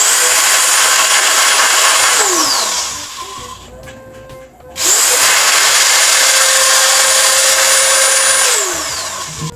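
An angle grinder from a 3-in-1 power tool set whines loudly at high speed, spins down to a pause, then starts again and runs steadily before winding down, close up and without talk.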